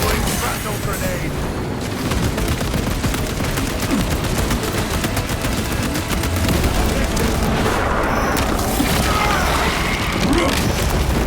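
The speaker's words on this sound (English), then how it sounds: "Grenade!" Grenade and weapon blasts in the Warhammer 40k Space Marine 2 video game, a relentless, loud wash of booms and rapid gunfire with game voices mixed in.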